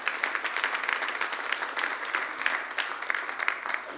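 Applause from a church congregation during a Spanish-language sermon, a steady broadband clatter of many hands clapping together for about four seconds, moderately loud and even, with no voice over it.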